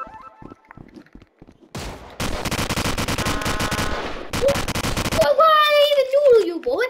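Rapid bursts of automatic gunfire from a Call of Duty match on the Nuketown map, loud and dense for several seconds with brief gaps, followed by a high whining tone as a young voice speaks over the end.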